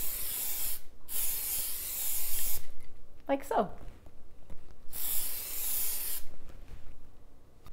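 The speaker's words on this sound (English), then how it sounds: "lightly grease your bundt pan with cooking spray" Two bursts of aerosol cooking spray hiss out onto a bundt pan, separated by a brief scraping rustle, with a soft voice speaking briefly in between.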